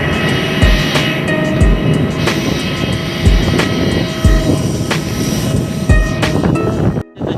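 An airplane engine roars steadily and close by at Lal Bahadur Shastri Airport in Varanasi, with a continuous loud drone and repeated low thumps, and no one speaking.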